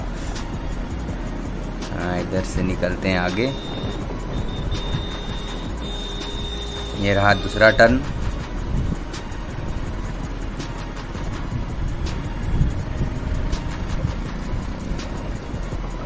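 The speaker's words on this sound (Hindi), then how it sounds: "गाड़ी को भी पूरा जोर लगाना पड़ रहा है, गाड़ी भी आवाज़ कर रहा है" A vehicle engine strains steadily through a sharp turn in a crowded, jammed bazaar, with continuous road and crowd noise. Bursts of a horn-like tone rise around the middle, and someone talks over it close to the mic.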